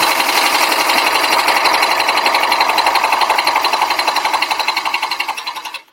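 An embroidery machine stitches a penguin design in a rapid, even mechanical chatter of needle strokes, loud and close, running steadily before stopping abruptly at the end.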